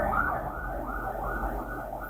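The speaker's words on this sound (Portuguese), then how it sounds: "A sirene chama a atenção para isso." A siren wails continuously, its rising and falling tone steady and fairly loud across the whole moment, with a low rumble underneath and no voices.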